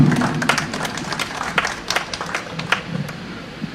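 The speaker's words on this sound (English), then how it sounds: "A round of applause for me." Audience applause at a live public dialogue event on impact investing, a mix of scattered clapping and crowd noise with a faint voice underneath, moderately loud and steady throughout.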